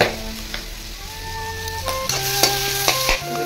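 Pork with taro frying in a pan, a close, steady sizzle with occasional stirring scrapes, brief and fairly loud, no voices.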